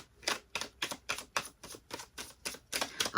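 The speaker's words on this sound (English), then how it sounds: "I'm going to give these a little shuffle here." Tarot cards are shuffled in a quick, regular rhythm of crisp riffling snaps, about a dozen bursts, close and fairly quiet.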